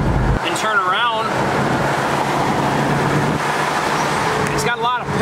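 A 1967 Dodge Coronet R/T drives along a road with a steady engine rumble and road noise, while someone talks over it close by.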